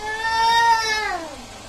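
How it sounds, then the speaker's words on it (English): A single long yawn that starts high and slides steadily downward in pitch, close and fairly loud, tapering off near the end with no talk over it. "That was a big yawn."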